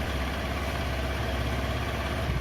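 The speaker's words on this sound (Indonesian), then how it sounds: "kita coba untuk menghidupkan mesin" A motorcycle engine idles steadily and close, a low even rumble that holds without change; the start itself is not heard, only the running idle.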